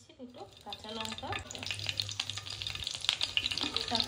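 Two green chilies frying in about half a spoon of oil for ghugni, a steady close sizzle with stirring scrapes building over four seconds, no talking.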